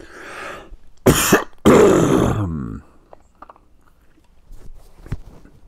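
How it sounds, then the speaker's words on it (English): A person clears their throat with two harsh, loud rasps close by, followed by quieter mouth clicks and small sounds. "I need to clear my throat, but I need to be quiet."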